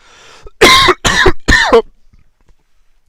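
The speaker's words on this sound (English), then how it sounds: "sorry, I'm gonna cough." Three harsh coughs in quick succession, loud and close, followed by near silence.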